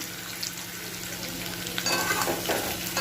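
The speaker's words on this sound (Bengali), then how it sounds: "একটা ভাজা ভাজা হলে মটরশুঁটিটা আমি দিয়ে দেবো এখানে" Green peas sizzle in a hot pan while being stirred for a potato curry, a close, steady frying hiss with spoon scrapes that grow louder and busier toward the end, with no talk.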